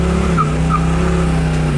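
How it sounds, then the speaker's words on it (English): Supercharged 1971 Oldsmobile 442 spinning its tires from a dead stop, a loud steady engine drone with tire squeal running close and continuous, no talking. "It just spins the tires."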